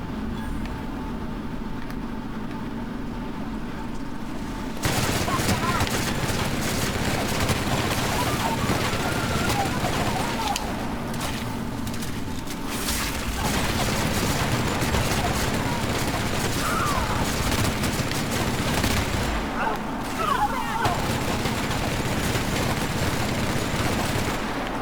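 Dense, sustained gunfire in The Outer Worlds, with rapid bursts and shots filling nearly the whole stretch, loud and continuous over game background noise and some talk.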